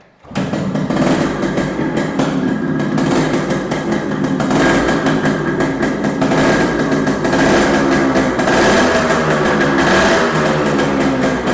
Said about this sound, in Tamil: ஸோ இந்த வெஹிக்கிளை நான் ஸ்டார்ட் பண்ணி காமிக்கிறேன். It's an RX 100 proper 100